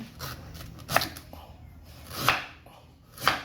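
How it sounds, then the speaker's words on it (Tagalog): Ginger, onion and garlic being pounded in a kitchen, a few distinct thuds spaced about a second apart, close and fairly quiet, with soft rustling between the strikes. "Yan, luya, sibuyas at bawang. Pikpikin, pikpikin."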